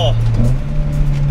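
Small 1992 Ford Escort van fitted with an RS2000 engine, 150 brake horsepower, driven hard over a crest, its steady engine drone shifting pitch through a blipped downshift, close and loud with a person talking over it.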